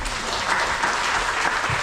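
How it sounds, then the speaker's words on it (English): An audience at a Diwali celebration in West Palm Beach, Florida, applauds in a dense, even burst of clapping that fills the short moment at moderate loudness. "Let's give him a round of applause."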